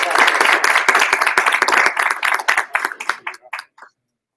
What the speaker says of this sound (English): So round of applause to Factual and round for John again